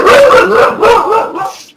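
A dog barks and yips loudly and close up in a brief run of sharp, slightly whining barks.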